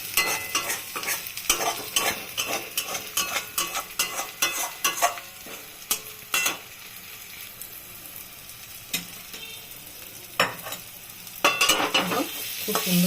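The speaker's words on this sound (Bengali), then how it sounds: "খুব সুন্দর করে নাড়াচাড়া করব" A spoon stirs and scrapes a Bengali ghonto of drumstick flowers, potato and eggplant in a pan, with rhythmic close scraping over a soft sizzle and no talking.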